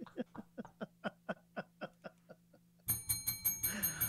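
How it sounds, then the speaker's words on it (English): A small bell dings rapidly about a dozen times in a steady run as a comedy sound effect on a radio talk show, followed by a burst of louder, denser ringing mixed with chatter and laughter. "That is the inappropriate bell in honor of the legendary Opie and Anthony show"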